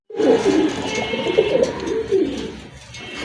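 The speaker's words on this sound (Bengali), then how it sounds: "খুবই চমৎকার এক জোড়া কবুতর" A pair of Gorra pigeons coo close and loud, giving a short run of deep, rolling, throaty calls in quick succession with no voices over them.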